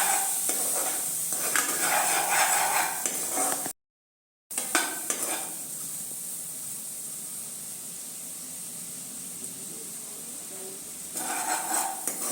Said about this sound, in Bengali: মশলাটা থেকে তেল ছাড়া পর্যন্ত সিমে করে রেখে আমরা এটা কষাতে থাকবো।